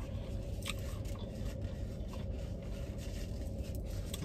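Crunchy chewing of breaded cauliflower wings close to the microphone, a steady stream of crisp bites and crackles over a low background rumble, with no talking.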